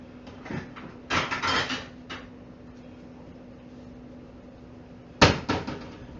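An oven-safe plate is picked up and set down on a counter with a couple of hard ceramic knocks and clatters, separated by quiet room tone, with one sharper clack near the end.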